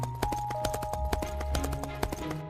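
A horse carries its rider away at a steady clip-clop, with hooves striking in a brisk, even rhythm close up, over sustained musical tones.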